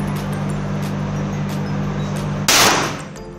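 A single sharp gunshot crack bursts out at a firing session, standing out above a steady low mechanical hum that runs throughout.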